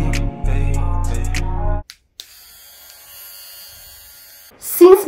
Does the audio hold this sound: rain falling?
no